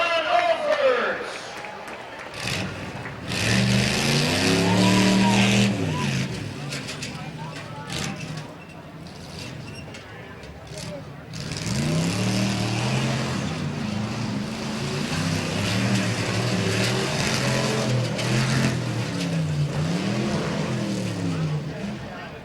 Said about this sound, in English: This is John Olfers, a 1980 Ford F-350, sponsored by Slump Busters Tree Service